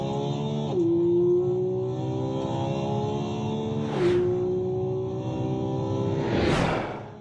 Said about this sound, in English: This is the 2020 Ford Raptor